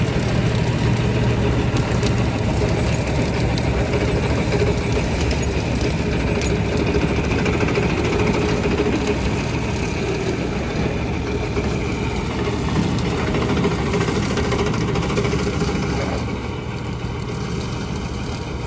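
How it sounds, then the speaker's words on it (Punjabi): A steady, low tractor engine rumble runs throughout, idling and chugging at a constant level, close by and loud without pause, during baling work in a field. "ਇਹਨੇ ਟਰੈਕਟਰ ਨੇ ਉਨਾ ਵਧੀਆ ਕੰਮ ਕਰੀ ਜਾਂਦਾ"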